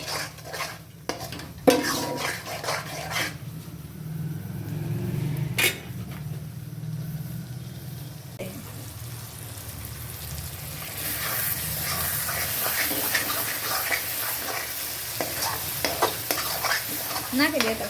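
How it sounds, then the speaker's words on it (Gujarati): Masala spices for batata poha sizzle in a hot pan with a continuous crackle, while a spoon scrapes and clinks as it stirs. The frying grows brighter and denser toward the end. "મસાલો ચડે છે"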